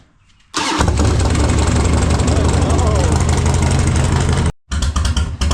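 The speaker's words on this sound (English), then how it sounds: "Have to pull the choke again and let it idle for a little bit." A Harley-Davidson Dyna motorcycle engine cranks and catches with a sudden loud roar, then runs steadily at a rough, lumpy idle close by, cutting out briefly near the end before the sound resumes.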